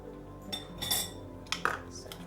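A metal tablespoon measure scraping and clinking against a bowl while scooping beaten egg, a few light metallic taps and scrapes at close range in a quiet kitchen.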